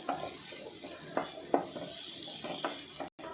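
Tomatoes being stirred and sautéed in a pan for a spicy egg masala filling: soft, irregular scraping and a few light utensil knocks against the pan over a faint background hiss, with no talking.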